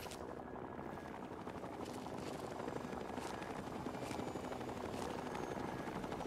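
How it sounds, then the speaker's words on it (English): In the video game Fallout 3, a helicopter flies nearby with a constant loud rotor thrum, steady and unbroken throughout. "not another helicopter"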